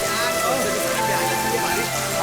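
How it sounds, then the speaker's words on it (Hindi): Heavy rain pouring steadily on surfaces in a village, a dense continuous wash with voices shouting over it. "बारिश आ गई, भागो।"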